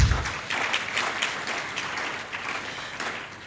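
Audience applause closes a panel on climate and environmental resilience in extractive communities: a moderately loud, even patter of clapping that gradually thins out over a few seconds.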